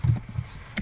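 Typing on a computer keyboard: a few soft, quick key clicks spread across a brief moment, close to the microphone, with no voices.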